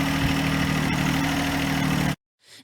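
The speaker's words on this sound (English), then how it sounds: "Derek is putting on the snowblower even though there's no snow" Snowblower engine idling steadily and loud for about two seconds, then cutting out abruptly, with a faint sound after.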